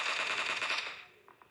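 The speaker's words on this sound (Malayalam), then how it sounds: "ഇവിടുന്ന് എനിമി ഗൈസ്, ഇവിടുന്ന് വെടി ഗൈസ്." Automatic gunfire from the video game PUBG rattles in a rapid continuous burst, then fades, leaving two faint isolated shots at the end.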